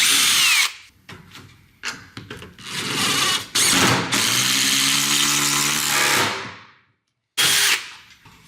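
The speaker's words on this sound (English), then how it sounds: "We want to drill and countersink all the holes and use flat head fasteners" A power drill bores holes into the head ledger of a sunroom during installation, sounding in several loud whirring bursts of varying length with short pauses between them, the longest run winding down before a final brief burst.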